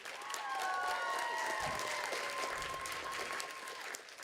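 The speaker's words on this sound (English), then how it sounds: "Can we continue that round of applause for this amazing group of judges?" Applause and cheering from the audience at a youth poetry slam fill the room, with a few high whoops rising above the steady clapping, which fades slightly toward the end.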